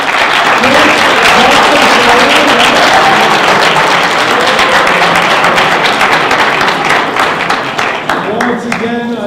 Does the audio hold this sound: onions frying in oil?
no